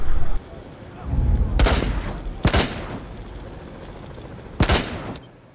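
Gunfire in the video game Rainbow Six Siege: three sharp bursts of shots, spaced a second or two apart, ring out loud and close over low background noise.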